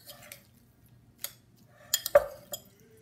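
A small metal spoon clinks a few times against dishes while clams oreganata are prepared, light isolated taps and one sharper clink in a quiet kitchen.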